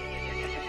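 A horse neighs in a cutscene from the Resident Evil Village video game, one sustained, loud whinny that fills the whole brief moment with no talking over it.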